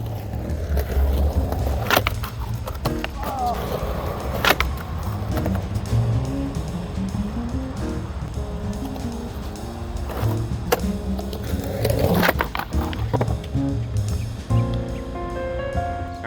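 A skateboard fitted with Dragon wheels rolls over pavement cracks, producing a continuous close gritty roll punctuated by repeated sharp clacks as the wheels hit the cracks, followed by a few louder board impacts.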